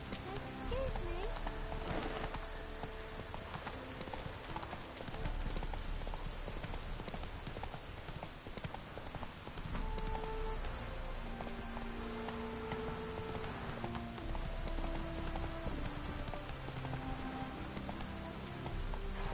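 Geralt's horse Roach galloping in The Witcher 3: Hearts of Stone, with rapid continuous hoofbeats under rain and game music, and a voice speaking briefly.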